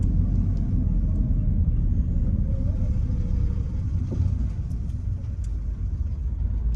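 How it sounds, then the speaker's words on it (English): Cars roll past on a neighborhood street in Adair Park, Atlanta, Georgia, with a continuous low road rumble heard from inside a vehicle and a faint engine tone rising and fading midway. "I'm gonna allow these cars to go by."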